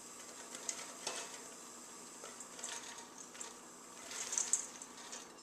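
Vegetables for a beef and Guinness stew frying in olive oil in a hot saucepan, a faint steady sizzle with soft clinks and scrapes of utensils against the pan.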